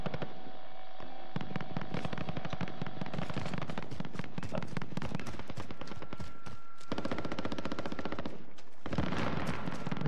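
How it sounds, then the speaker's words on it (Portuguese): Rapid automatic gunfire rattles almost continuously in an online shooter game match as a car is shot up, dense crackling bursts with brief gaps, loud and close. "Um carro lá em cima a levar tiros."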